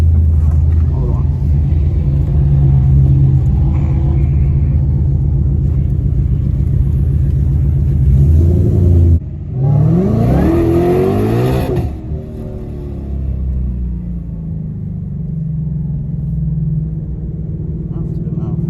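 A built 2020 Ford Mustang GT500 engine idles with a loud, steady rumble, then revs up sharply in one climbing burst and settles back to a lower idle, heard up close.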